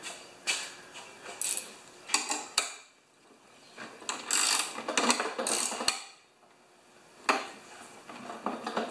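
Metallic clicks and ratcheting on a Yard Works lawn mower as a bolt is tightened, several short bursts of clinks and creaks at close range, with quieter gaps between them and no talk.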